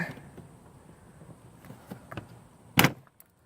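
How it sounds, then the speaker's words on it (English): A plastic clip pops loose from the center fascia trim of a Hyundai Veloster, giving one sharp, loud snap near the end after a few faint rattles and scrapes from the handled trim. "it's just clips, you know. it'll come popping out like that."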